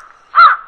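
A single short crow caw, loud and close, rises out of near silence.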